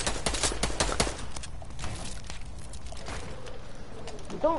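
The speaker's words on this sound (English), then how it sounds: "They're shooting" Gunfire in a video game, a rapid fusillade of loud close shots at the start, thinning into scattered distant pops and softer bursts, with a brief voice near the end.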